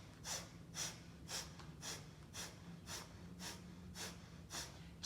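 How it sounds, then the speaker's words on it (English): Rapid rhythmic breath-of-fire yogic breathing: about ten sharp nasal exhalations, each a short puff roughly every half second, steady and close, with a faint low hum underneath and no talking. "long deep breath or breath of fire"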